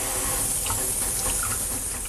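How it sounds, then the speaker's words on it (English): Water runs from a tap while hands are washed before a physical abdominal examination, a steady close hiss of flowing water with no talking. "I'm going to first wash my hands."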